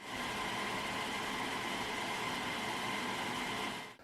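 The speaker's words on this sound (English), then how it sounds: "After about 8 minutes of running that 1800 watt load, the cooling fans were up to their full speed." Cooling fans of an ALLPOWERS portable power station run at full speed under an 1800 watt load, giving a steady, even whirring hiss heard close with no talk over it.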